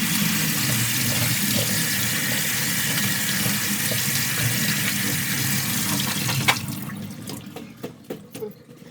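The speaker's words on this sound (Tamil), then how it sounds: "இப்போ இந்த ஃப்ரூட்ஸாக போய் கழுவிக்கலாம் வாங்க." Tap water runs steadily as grapes are washed in a kitchen sink for homemade grape juice, a continuous splashing stream that gives way near the end to scattered drips and handling noises.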